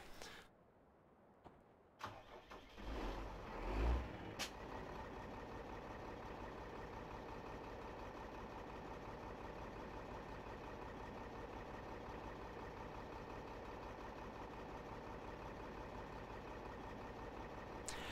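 A truck in a farming video game idles with a steady low engine drone after a brief burst of louder noise at the start, and holds on evenly to the end.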